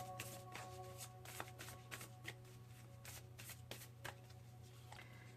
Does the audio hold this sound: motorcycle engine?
no